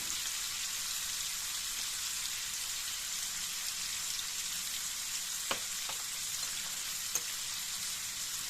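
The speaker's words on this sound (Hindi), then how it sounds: "मैं इसमें डालने जा रही हूँ शिमला मिर्चें।" Chopped capsicum frying in a hot pan for fried rice, a steady, even sizzle throughout with a few faint clicks of a utensil.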